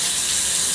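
Tap water runs steadily into a basin while rinsing a toothbrush in a nursing skills lab, a loud, even hiss for under a second.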